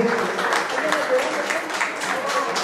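Audience applause at a squash tournament award ceremony in Mexico, steady dense clapping filling the whole stretch, with a voice faintly heard beneath it.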